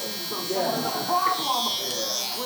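A Stylecraft Rebel hair trimmer buzzes steadily as it cuts through hair close up, a continuous electric drone with a voice talking over it.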